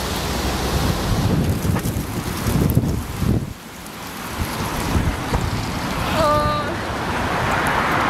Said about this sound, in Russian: У меня аж камеру трясет от ветра